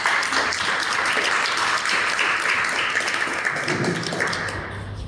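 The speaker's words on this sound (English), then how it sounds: "let's welcome with a big round of applause, Lucian Botelho." A Toastmasters meeting audience gives a full round of applause to welcome a speaker, dense steady clapping from a roomful of people that fades slightly near the end.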